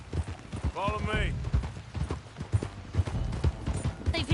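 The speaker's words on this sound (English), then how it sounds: "Get on your horse. Follow me." Horse hooves clip-clop in a Red Dead Redemption 2 game scene, an irregular run of close hoofbeats, with a brief whinny early on and game characters talking over the steps.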